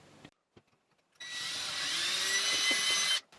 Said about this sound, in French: je vais faire mon perçage à la mèche à bois